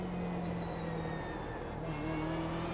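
A BMW M8 GTE race car accelerates on the Barber Motorsports Park circuit, its engine note a loud, steady drone heard from onboard, with the pitch sliding down at a gear change and then climbing again.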